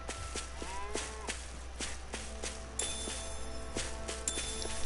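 Cows moo repeatedly in a video game, Tales of Arise, over a steady low hum, with soft rhythmic thumps of footsteps running throughout.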